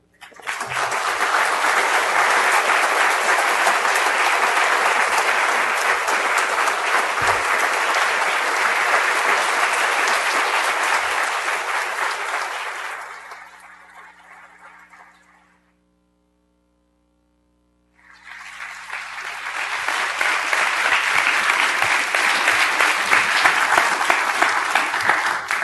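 An audience applauds at length to welcome Professor Donald Keene at a farewell evening, a loud steady wash of clapping that fades out, falls silent, then swells again into sustained applause.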